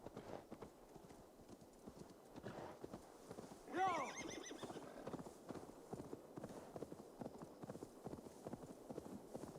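A horse in Assassin's Creed Valhalla trots with steady clip-clop hoofbeats throughout, then gives one loud neighing whinny partway through, with faint game ambience behind.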